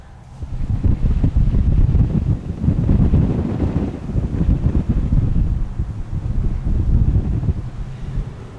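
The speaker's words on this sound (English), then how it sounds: "Hot and windy." Strong, hot wind roars and buffets the microphone continuously, loud and gusty, with no voices, during storm chasing.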